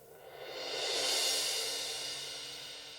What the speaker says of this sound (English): I wanted the main riser to be this little symbol right here.